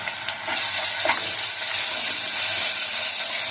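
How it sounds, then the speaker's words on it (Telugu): Ginger garlic paste frying in a pan on a low flame with turmeric and salt: a steady, close, hissing sizzle with a few faint stirring scrapes, and no talk. "ఇలా కొద్దిగా సిమ్గా చేసుకొని ఇలా వేయించుకోవాలండి"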